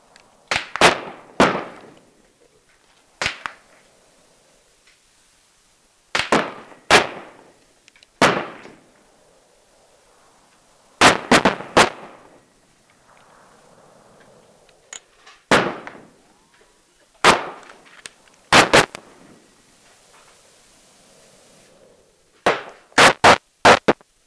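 Sharp, loud Glock 29 pistol shots fired in separated bursts of two to four rounds, with quiet pauses between groups over roughly two dozen seconds.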